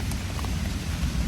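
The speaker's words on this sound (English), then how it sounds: "as y'all can probably hear, it's raining pretty good." Heavy rain pours down steadily on a campsite in the early morning, a dense, even hiss of drops with no breaks and no voices.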